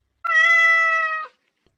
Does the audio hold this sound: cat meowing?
yes